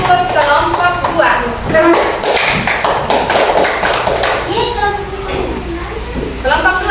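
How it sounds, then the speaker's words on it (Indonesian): A classroom of students claps for a student group, with loud, uneven hand claps and taps close by, mixed with children's voices and chatter. "Beri tepuk tangan yang meriah untuk kelompok 1"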